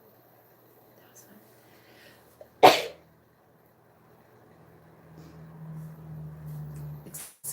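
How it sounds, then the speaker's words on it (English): A single sharp sneeze bursts out near the mic amid otherwise quiet, whispered talk, followed later by low murmuring speech and a faint rustle at the end. "I'm trying not to sneeze."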